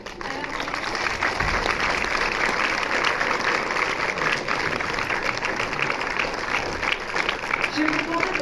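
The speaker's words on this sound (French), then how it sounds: "Je vais vous demander de continuer à applaudir" A cinema audience applauds after a film screening with Michel Gondry at MK2 Bibliothèque, a steady, dense wash of many hands clapping that holds evenly from start to finish.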